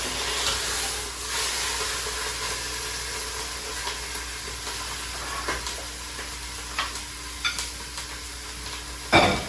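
Wild turkey sears in a hot Instant Pot with a steady close sizzle and hiss, punctuated by a few soft clicks and a louder clatter at the end as the meat is flipped.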